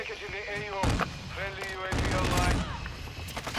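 Gunfire in a Call of Duty match: loud bursts of shots and explosive booms, one near the first second and a longer heavy volley after two seconds, with a player talking over the action.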